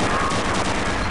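A tank's machine gun fires a rapid, dense burst in the video game Gunman Chronicles, loud and continuous with no talk.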